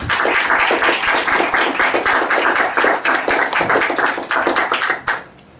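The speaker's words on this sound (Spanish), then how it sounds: "De igual manera pido un fuerte aplauso." Warm applause from guests at a civil wedding ceremony, steady dense clapping that runs for about five seconds before cutting off abruptly.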